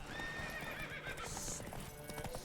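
A horse galloping in the video game The Witcher 3: Wild Hunt, rapid hoofbeats under game music with a brief neigh, all fairly quiet.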